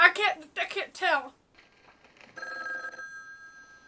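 An old-fashioned telephone bell rings faintly in a film scene, a brief metallic trill following a man's speech.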